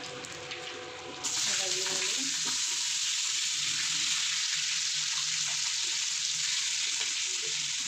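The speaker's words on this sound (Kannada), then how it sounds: "ಈರುಳ್ಳಿನ ಹಾಕೊಂಡು ಚೆನ್ನಾಗಿ ಫ್ರೈ ಮಾಡ್ತಾರೆ." Onions frying in oil with bay leaf, kasuri methi, cinnamon and cloves for hotel-style biryani, a steady loud sizzle that jumps in after a quieter first second and holds close and even, with faint stirring clinks.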